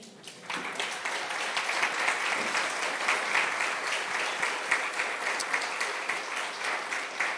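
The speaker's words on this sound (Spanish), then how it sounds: "¿No le da un aplauso al Señor?" A church congregation at a women's breakfast gathering breaks into loud, sustained applause that swells in after a brief quiet start and continues as a dense, even wash of clapping.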